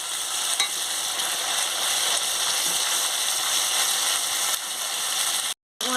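Spice paste fries in a pan with a little water while being cooked down for a meat curry, giving a steady close sizzle with faint stirring scrapes that cuts out briefly near the end.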